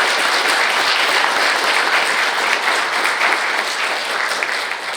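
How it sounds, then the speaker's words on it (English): Audience at a construction mentor-protégé program graduation applauds 16 protégé contracting firms: steady, dense clapping from a large crowd that holds for the whole stretch and eases off slightly at the end. "Can we give them a round of applause again?"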